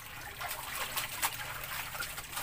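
Weak tap water trickles steadily and quietly while laundry is done by hand at home, a soft continuous dribble with no talk over it.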